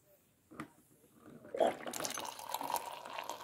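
Hot water poured into a mug over an instant coffee stick mix in a home kitchen, a steady close liquid splash and fill sound that rises after a couple of faint clicks and keeps going to the end.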